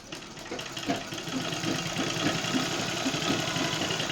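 A sewing machine runs steadily while stitching the inner lining of a suit, giving a continuous close mechanical whir with a faint rhythmic knock and no pauses.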